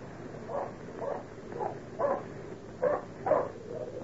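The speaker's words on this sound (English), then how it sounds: "He'd never bark that way for nothing." A dog barks in a series of six evenly spaced single woofs at night, moderately distant and muffled over a low background hiss, with no talk.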